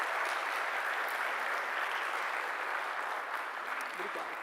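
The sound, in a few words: audience applause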